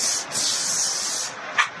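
A cosmetic spray bottle hisses in a long, steady close-up mist, briefly easing off partway through, then ends with a short, sharp final puff.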